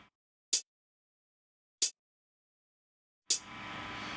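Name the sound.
muted closed hi-hat sample from Metrum synth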